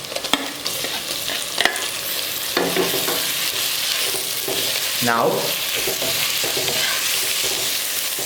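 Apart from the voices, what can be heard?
frying onions and tomatoes for fish curry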